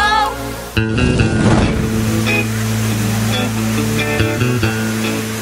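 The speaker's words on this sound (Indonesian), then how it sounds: "mendengar suara air terjun" At the Tirta Rimba waterfall, rushing water roars steadily and loud, with a brief burst of wind or handling noise near the start.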